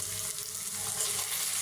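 Whole spices such as cardamom, cinnamon and bay leaf frying in hot oil in a pan for chicken curry, a steady dense sizzle, close and even throughout with no talk.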